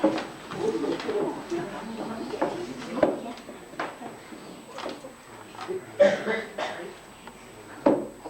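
Pet doves coo softly in the background, low repeated murmuring calls amid room noise and occasional clatter, while people talk nearby.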